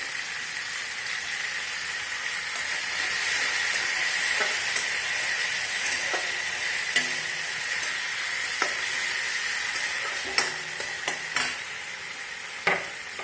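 Onion and tomato frying in a pan for dal fry, giving a loud, continuous close sizzle with a few soft stirring knocks scattered through it.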